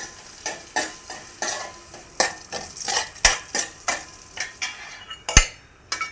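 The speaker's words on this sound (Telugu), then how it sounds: "పెద్ద మంట మీద జోరగా వేపుకోవాలి" Cashews and raisins frying in ghee over a high flame, with rhythmic scraping stirs and clinks of a utensil against the pan over a soft sizzle, close and fairly loud, with no talking.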